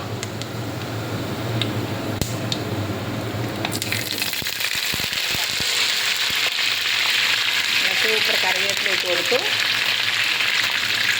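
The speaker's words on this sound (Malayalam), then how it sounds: "നമുക്ക് കുറച്ച് കറിവേപ്പിലയും കൂടി അതിലേക്ക് ഇട്ട് കൊടുക്കാം" Curry leaves and urad dal dropped into hot coconut oil sputter and sizzle loudly and close, a dense continuous frying hiss with sharp pops and crackles building up after a few seconds.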